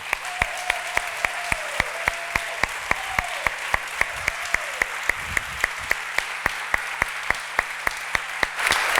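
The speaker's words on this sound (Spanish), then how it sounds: "un fuerte aplauso para el gran Lorenzo Silva" Steady applause from an audience at the Blacklladolid 2023 award event honouring author Lorenzo Silva, with dense clapping throughout that swells slightly near the end.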